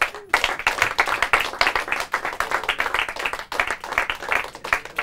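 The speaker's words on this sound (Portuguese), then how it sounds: "Uma salva de palmas para todos eles." Steady applause from a quiz-final audience at a Portuguese competition round in Margão, many hands clapping densely and continuously at close range, starting abruptly after a brief pause and holding strong throughout without talk.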